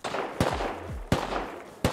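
Three sharp, loud gunshots spaced out across a couple of seconds in a video game, each a crisp crack with a short ringing tail, close by and without talk.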